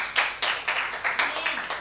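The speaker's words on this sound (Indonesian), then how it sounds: "Beri tepuk tangan yuk buat Ruce." Congregation clapping together during a Sunday church worship service, a steady rhythmic clap repeating about every quarter second, moderately loud and close, with no talk over it.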